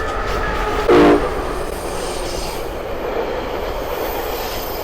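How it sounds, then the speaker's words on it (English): A train passing on its way to LA, a loud continuous rumble of wheels on track with a brief horn blast near the start, heard from nearby with no talk. "And that is the train."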